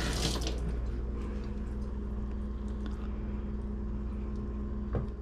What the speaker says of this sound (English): I'm just gonna wet the spatula.